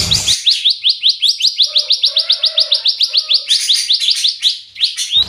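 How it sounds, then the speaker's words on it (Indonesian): A caged songbird at a small bird shop sings loudly and close, pouring out a rapid, evenly spaced run of bright, sharp chirps that continues almost without pause. "Masih tetap bunyi. Tetap bunyi. Jadi burung udah gacor ya?"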